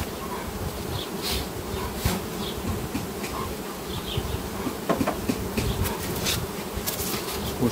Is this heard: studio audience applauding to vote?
no